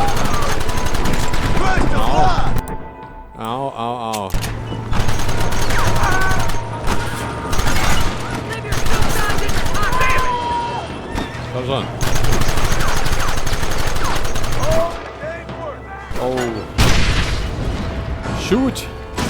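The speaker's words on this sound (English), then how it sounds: "Was für ein Geballere" Heavy gunfire rages in the Western video game Red Dead Redemption, with dense volleys of rifle and machine gun shots and booming impacts that pause briefly, then resume loudly, and a voice is sometimes heard in the din.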